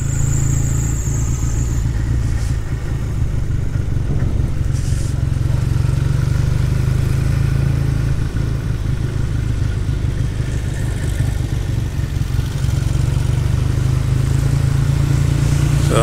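A classic British motorcycle engine runs in a continuous loud, low rumble with a steady clattering throb, close by and unbroken throughout, at a national motorcycle event.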